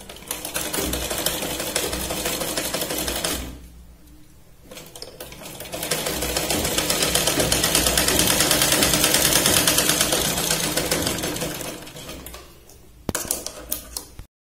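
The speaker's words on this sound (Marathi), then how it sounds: "प्लेट्सवाले पार्टला आपण इथे एक बॉक्स आकाराने आपण सरळ शिलाई लावून घेऊया" A sewing machine runs a straight seam along the pleated section of a nauvari saree, making a steady mechanical whirr that stops briefly partway through, then resumes and ends with a few sharp clicks.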